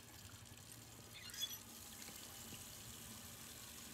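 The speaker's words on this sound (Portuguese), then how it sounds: "A gente pode ligar a torneira do banheiro." Bathroom water tap turned on inside the video game Redfall, producing a faint, steady running-water hiss with one slightly stronger splash early on, with no talking.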